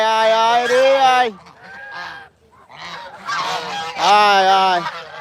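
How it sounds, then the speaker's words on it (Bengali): Domestic geese honk loudly and close by in a few bursts of harsh, nasal calls with brief pauses between them. "এই যে রাজহাঁস"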